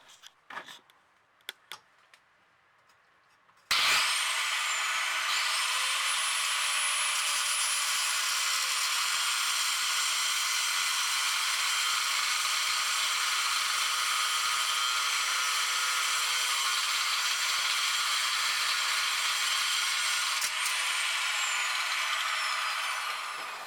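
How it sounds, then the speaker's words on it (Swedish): Cutting tool grinding steadily through a bolt on the rear suspension arm of a Volvo V70/S60/S80/XC70/XC90, after a few brief knocks; loud, continuous high-pitched whine sustained for about twenty seconds with no speech. "där ni kan se när vi kapar den här bulten"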